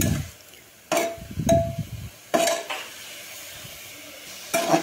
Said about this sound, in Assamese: গাজৰখিনি এনেকৈ হিলাই লৰাই মই ভাজি থাকি অলপমান সময় ভাজিব লাগিব